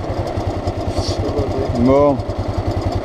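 A motorcycle engine pulls after the clutch is let out, a steady close low pulsing throb that swells briefly in pitch as it revs, with a single short spoken word over it.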